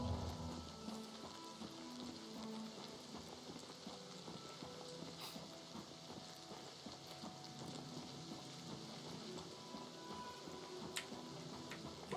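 Steady night rain in the video game Oblivion Remastered, a continuous soft patter and hiss running the whole time at moderate level, with faint tonal game music underneath and no talking.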